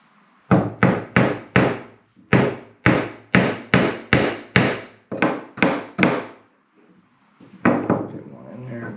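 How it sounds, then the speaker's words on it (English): A hammer drives nails into wood while stinger hooks are made, with about a dozen sharp, ringing blows in quick runs, a brief pause, then a few more strikes, close and loud. "take the hammer"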